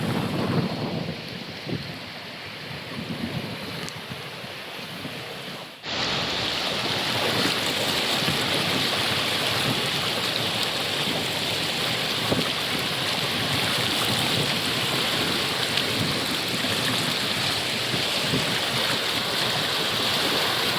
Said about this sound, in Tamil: வட்டுவால் பாலம் மேவி பாய்ந்து கொண்டிருக்கிறது.